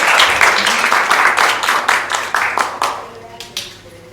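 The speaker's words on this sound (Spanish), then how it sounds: "un fuerte aplauso para nuestra mesa de honor" An audience claps for the head table at a reading and writing celebration, a loud burst of applause that thins out and fades toward the end, with voices mixed in.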